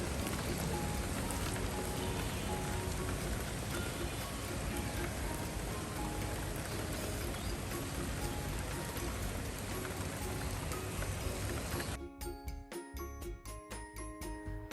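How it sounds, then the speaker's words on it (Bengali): Steady heavy rain pours down continuously, a dense hiss of drops on surfaces, ending in a lighter, drippier patter with distinct tinkling drops. "সকাল থেকেই বৃষ্টি হচ্ছে ঝিরিঝিরি বৃষ্টি থেকে অনেক বৃষ্টি"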